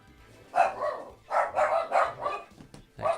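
Several dogs barking in a run of loud, close barks, with a pause and then one more bark at the end.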